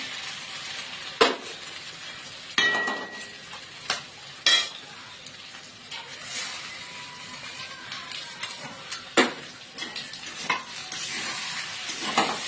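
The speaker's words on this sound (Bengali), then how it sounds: "তো এরপরে আমি ডিমগুলো ফাটিয়ে দিয়ে দেবো এর মধ্যে।" Eggs are cracked one by one into a hot pan while making Maggi noodles. Several sharp cracks and taps sound up close over a soft background sizzle, spaced a few seconds apart.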